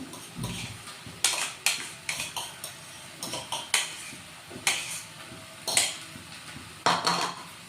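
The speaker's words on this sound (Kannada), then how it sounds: "ಈಗಾಗಲೇ ಸ್ಮ್ಯಾಶ್ ಮಾಡಿ ಇಟ್ಕೊಂಡಿರೋ ಆಲೂಗಡ್ಡೆನ ಇದಕ್ಕೆ ಮಿಕ್ಸ್ ಮಾಡ್ತಿದ್ದೀನಿ" Spoon scraping and clinking against a pan while mashed potatoes are stirred into a mixture for aloo methi paratha, about eight sharp close metallic knocks spaced at a steady stirring rhythm with softer scraping between.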